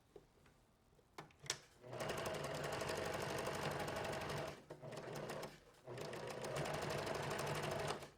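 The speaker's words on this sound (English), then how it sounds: "Sew straight across, make sure that you find the center point here." A sewing machine stitches fabric in close, rapid rhythmic bursts, running steadily, pausing briefly twice, then resuming, fairly quiet overall with a few handling clicks before it starts.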